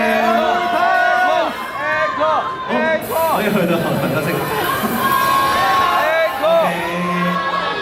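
A concert crowd cheers and whoops for the performing group Honey Punch, with loud, sustained cheering and shouting mixed with a host's talk over a PA.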